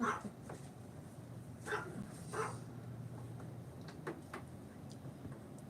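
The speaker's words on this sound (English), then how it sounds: "Here's the doggies." Pet dogs give a few faint, scattered barks and soft whimpers indoors, with brief sharp yips spaced across a quiet room.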